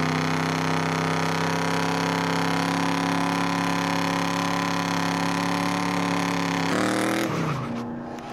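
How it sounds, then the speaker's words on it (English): A Chevrolet Camaro's engine is held at high revs in a burnout contest, a loud sustained droning roar with steady harmonic tones. Near the end the pitch drops sharply as it backs off, then a lower rumble remains. "what burnout contest would be complete without a Camaro?"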